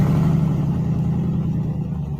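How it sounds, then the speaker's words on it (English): A 1990s front-wheel-drive Cadillac Eldorado luxury coupe fitted with two Northstar V8s, one under the hood and one in the trunk, gives a loud, close, steady deep engine rumble with a low droning hum and no voices. "front-wheel drive luxury coupe from the 90s with not one, but two North Star V8 engines"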